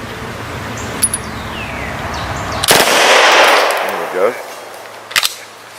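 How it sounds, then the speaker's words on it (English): A firearm fires a short burst of a couple of rounds, a sharp loud report followed by a rolling echo, then a few more quick cracks near the end. "This will be a short burst because I think it's just a couple of rounds."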